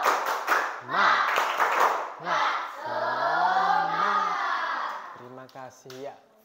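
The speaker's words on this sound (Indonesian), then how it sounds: "Coba biar kalau tidak ngantuk, coba tepuk dulu." Pupils in an Indonesian primary school classroom clap in quick rhythmic bursts, mixed with chanted and sung voices between and over the claps.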